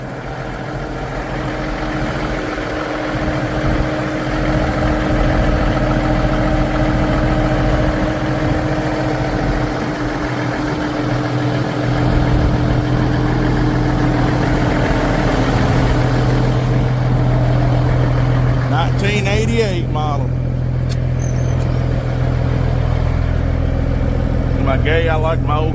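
An old-school semi truck cruising down the road, heard from the cab: a loud, steady low engine drone with road rumble throughout, and a brief burst of rattling and clatter near the end.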